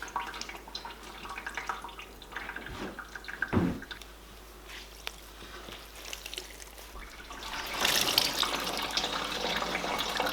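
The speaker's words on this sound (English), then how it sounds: "it squeezes the water out of it" Water trickles and splashes irregularly as wet clothes are wrung out by hand, with a brief louder gush partway through and a heavier, steady pouring stream near the end.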